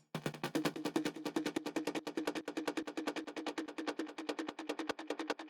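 A sample warped in beats mode in Ableton, set to transient mode with a low envelope, stutters as a rapid, steady train of short clipped hits. It repeats evenly for about five seconds with no talk.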